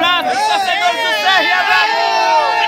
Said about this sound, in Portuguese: Aqui é a torcida marcando presença